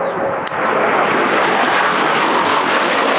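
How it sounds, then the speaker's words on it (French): An airplane passes overhead as a loud, broad roar that swells and holds steady after a sharp click at the start, with no talk over it. "Un avion."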